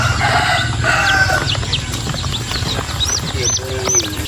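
Native chickens and their chicks fill the yard with steady clucking, cheeping and a rooster crowing over continuous background noise, close and loud.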